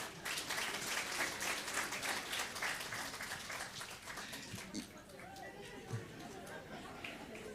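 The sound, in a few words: applause in church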